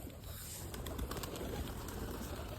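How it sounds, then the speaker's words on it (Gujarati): Pigeons coo softly while pecking at scattered grain, low repeated calls over a steady background hiss, fairly faint and without speech. "કબૂતર ચણે છે"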